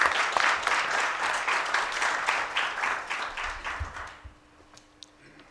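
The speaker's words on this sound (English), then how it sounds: "A fitting, rousing round of applause for Professor Matlo Mkhalo." Audience applause at a university's inaugural address, a dense round of clapping that holds steady for about four seconds, then fades out to near silence.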